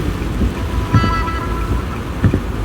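Heavy monsoon rain pours steadily in Lonavala, a dense continuous hiss with a few duller thumps and gusts rising through it, heard alone without voices.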